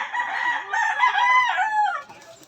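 A Milsim Black gamecock rooster crows once, a loud, close cock-a-doodle-doo lasting about two seconds, alone without talking.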